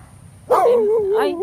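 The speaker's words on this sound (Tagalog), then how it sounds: "Ay, ang cute ng aso." A dog in a roadside neighborhood gives a sudden loud, whiny bark-yelp that trails into a drawn-out whimpering howl, with a second rising yelp near the end. The dog is close and heard alone.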